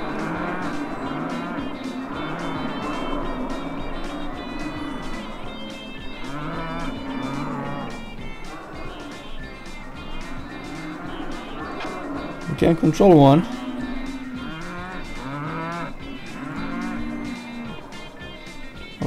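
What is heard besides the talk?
cows mooing in video game Cow Thunder Simulator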